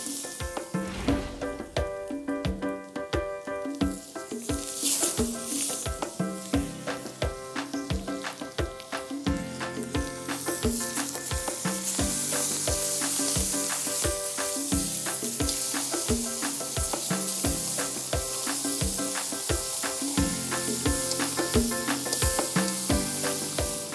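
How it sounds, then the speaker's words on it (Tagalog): Chicken seared in a pan for nilasing na manok, a steady loud sizzle and crackle that swells and continues throughout, with occasional clinks and stirring sounds on top. "Saka natin isi-sear yung ating chicken."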